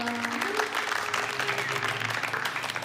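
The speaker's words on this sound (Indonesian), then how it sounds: "Oh, tepuk tangan dong." Audience applause at a student panel talk, steady dense clapping filling the whole stretch at moderate loudness, with no voices over it.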